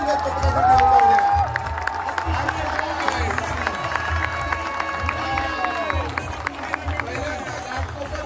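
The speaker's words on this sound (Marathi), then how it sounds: "गुजरात क्रीडा मंडळाला पारसाईड राजाचा सन्मान एकदा जोरात टाळ्या गुजरात पथकासाठी उठवल्या." At a Mumbai Dahi Handi event in Ghatkopar, a crowd cheers and claps for the Gujarat Krida Mandal human-pyramid team. The cheering is dense and continuous under a loud announcer's voice and a busy background din.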